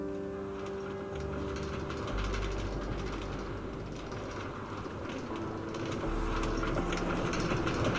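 An A Express subway train in New York rides along with a continuous low rumble, rail clatter and steady rolling noise heard from inside the car, with occasional higher screeches.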